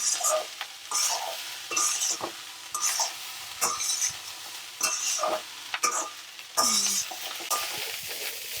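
Street-style gobi fried rice is tossed and stirred in a kadai, loud rhythmic bursts of sizzling and spatula scraping roughly every second, with light metallic clinks between strokes.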